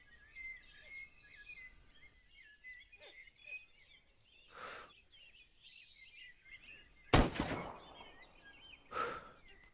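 A single sharp gunshot cracks out loud and close in the SCUM open-world survival game, set against quiet outdoor ambience with scattered birdsong before and after.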